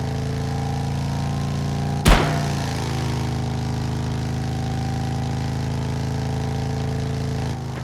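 Car engine idling with a steady exhaust drone in the driving game Drive Beyond Horizons, towing a trailer; a sharp thump cuts in near the start, then the engine hums on evenly and loud with no talk.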